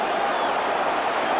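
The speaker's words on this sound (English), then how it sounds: "Crowd angry that the Austrian referee didn't play the advantage there." A large football crowd at a 1975 European Cup semi-final between Barcelona and Leeds United roars angrily in a steady, distant-sounding wash of massed voices that fills the whole moment without a break.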